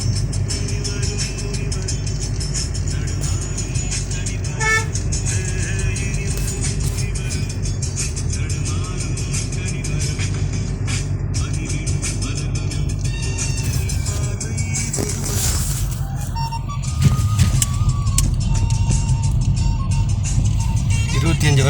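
Steady roadside traffic rumbles throughout as vehicles pass, with a louder vehicle sweeping by near the end and people talking under the noise.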